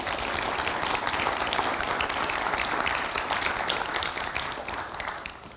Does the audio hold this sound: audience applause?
yes